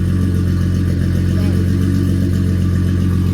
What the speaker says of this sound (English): we got the car running on the first day